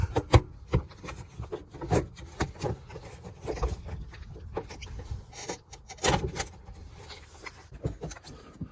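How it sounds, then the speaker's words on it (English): Honda Civic rear bumper being worked loose and pulled down off the car, a run of irregular rubbing, scraping and soft plastic knocks close by, with no one speaking. "Alright, so now it's time to try to take the bumper down."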